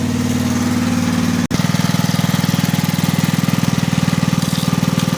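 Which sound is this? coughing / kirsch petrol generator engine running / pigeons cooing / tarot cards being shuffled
kirsch petrol generator engine running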